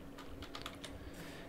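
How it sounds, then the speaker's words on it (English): Keys clatter on a computer keyboard while a crafting item is entered in a modded Minecraft engineering game, giving a short burst of quiet, close clicks over a faint steady hum. "I'm typing crusher electrodes"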